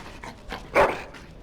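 A dog in the video game Dragon Age whimpers softly a few times and then gives a single short, sharper bark, close and fairly quiet over faint background noise.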